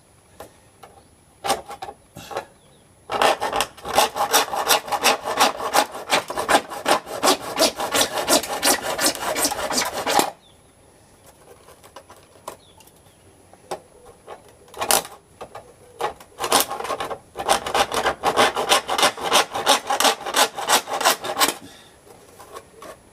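A hand saw with a warped blade cuts wood with rapid, rhythmic rasping strokes, close and clear, in two long bursts separated by a few scattered single strokes and short pauses.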